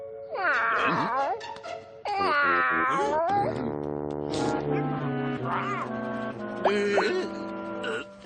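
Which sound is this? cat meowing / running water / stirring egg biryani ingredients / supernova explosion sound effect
cat meowing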